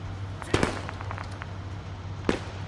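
Video game artillery strike: a pair of sharp, close-spaced blasts, then smaller pops and one more distinct blast near the end, over a low background hum.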